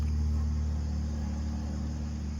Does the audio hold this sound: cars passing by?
yes